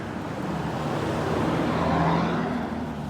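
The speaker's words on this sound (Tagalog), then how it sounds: "nakasakay na kami ng jeep" Steady engine drone and road rumble from inside a moving jeepney on a Saturday morning, continuous and fairly loud with no talking.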